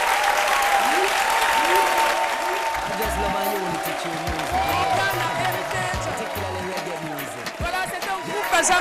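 A studio audience applauds loudly for the Jamaican reggae group, a dense, steady roar of clapping for the full length, with bouncy pitched sounds from voices or music threading through beneath it.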